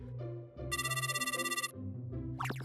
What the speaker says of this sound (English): Oh, that's not my cell phone, that's the house phone.